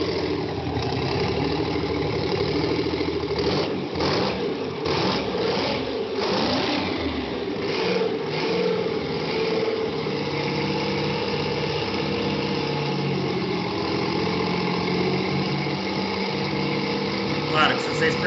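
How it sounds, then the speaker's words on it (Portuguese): A two-stroke diesel engine runs steadily in a workshop setting, a dense mechanical drone with rapid knocking pulses and a brief rise in revs early on, heard under continuous talk. "esse é um motor de 2 tempos diesel."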